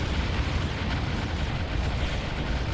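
Bombardment explosions in the strategy video game Ground Control: a dense, continuous rumble of overlapping blasts and booms, loud and unbroken, with no individual hits standing apart and no speech.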